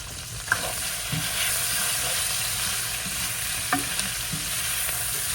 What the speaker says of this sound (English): A little lemon pepper while they're sauteed.